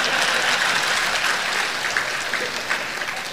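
An audience at a political speech in Tamil Nadu claps steadily, with dense continuous applause that slowly fades over a few seconds.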